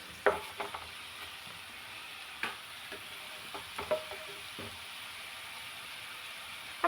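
Green chillies and curry leaves frying in a pan for a coconut-free brinjal dish, with a steady soft sizzle broken by several sharp scraping clicks of a spoon stirring, close and alone.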